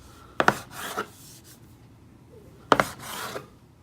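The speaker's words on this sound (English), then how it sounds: "This is a bench scraper and it's really handy if you like to bake a lot." Bench scraper cutting through pizza dough on a work surface: two separate short scraping, chopping strokes, close and distinct, with a quiet pause between them.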